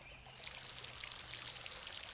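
Steady pouring water from a watering can over two plants at once in the Garden Simulator video game, a soft continuous trickling splash lasting throughout with no talk.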